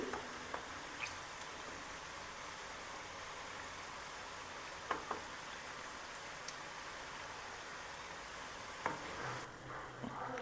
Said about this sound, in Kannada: ನೋಡಿ ಫ್ರೈ ಆಗತ್ತವೆ ಅದು ಸ್ವಲ್ಪ ಗೋಲ್ಡನ್ ಕಲರ್ ಬರಬೇಕು